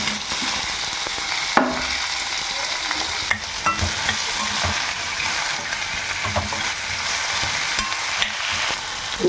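Onions with hing, green chillies and curry leaves frying loudly in a pan for onion tomato gojju, a dense continuous sizzle punctuated by close stirring scrapes of a spatula.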